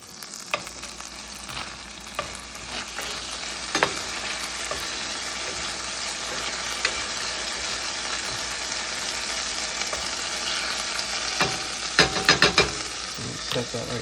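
Food sizzling and frying in a pan on a home stove, a constant loud crackling hiss with occasional stirring clatters and a burst of sharper pops near the end, no talking.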